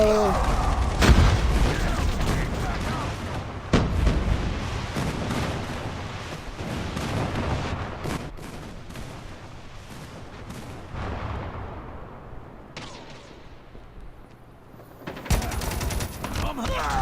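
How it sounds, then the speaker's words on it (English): Enemy airstrike in Call of Duty Mobile: a barrage of loud booms and bursts of gunfire in quick succession, close and heavy, with some talk mixed in. "Enemy airstrike incoming."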